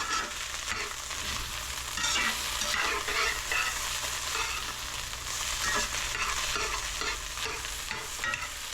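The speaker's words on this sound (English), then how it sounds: "Notice I'm constantly stirring to prevent burning." Food is stirred constantly in a hot pan, producing a continuous loud sizzle and frying crackle with repeated scraping strokes of the spatula and no voices.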